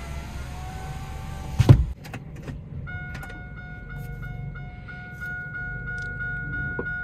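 A car elevator in Korea starts moving with a clunk and a brief rumble, then carries on with a quiet mechanical hum and faint steady electronic tones, with no talking.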